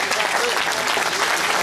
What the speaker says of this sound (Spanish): Un aplauso por favor para Sebastián